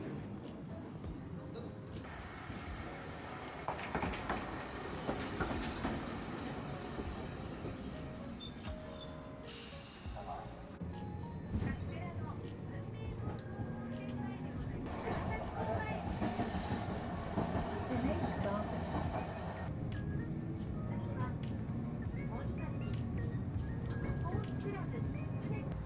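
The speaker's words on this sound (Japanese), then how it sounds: "今日は路面電車に乗って出かけてみようと思います。" A Nagasaki street tram rolls along at night with a steady low rumble and rattling wheels, while voices talk over the ride.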